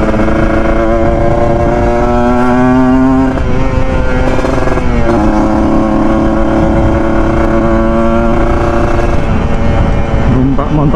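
An older Kawasaki Ninja RR motorcycle's exhaust drones loudly and continuously while riding, with shifting engine pitch as speed changes, close and dominant throughout.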